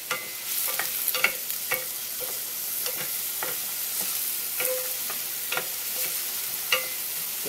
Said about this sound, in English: First, you add your onions. You brown them up a little bit.